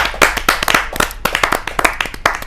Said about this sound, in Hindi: जोरदार तालियों के साथ हम स्वागत करें